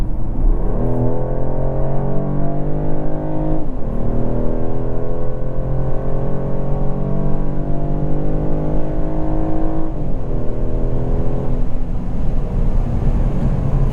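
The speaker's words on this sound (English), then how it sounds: "Yeah, this is more than enough acceleration." A 2024 Mercedes CLE450 4Matic accelerates hard, its engine note climbing steadily and dropping briefly at each gear change. The sound is loud, close and continuous throughout, with no talking.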